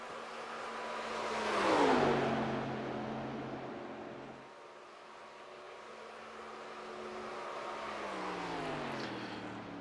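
A 1987 Grand National Chevrolet race car in the iRacing game leaving pit lane at Talladega, its engine revving up, dropping back, then climbing again in a steady whining drone, heard alone.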